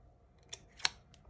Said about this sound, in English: on one side you'll snip partway through